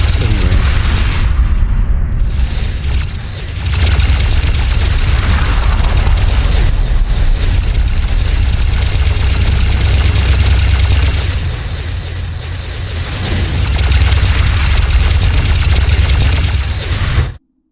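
Space combat in X4 Foundations, with ships trading fire and exploding: a continuous heavy rumble of booms and blasts runs throughout, loud and dense, with bursts swelling and easing under layered game noise.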